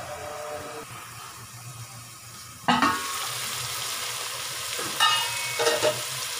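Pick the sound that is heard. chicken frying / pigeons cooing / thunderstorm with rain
chicken frying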